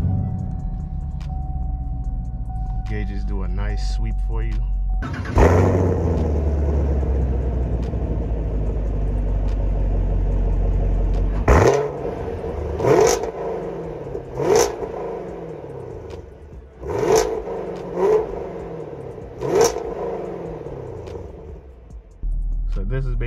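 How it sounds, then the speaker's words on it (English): A 2021 Chevrolet Camaro SS V8 idles after startup, then its exhaust barks through several sharp, loud revs spaced a few seconds apart over a steady rumble, with someone talking near the start. "what the exhaust sounds like in this vehicle"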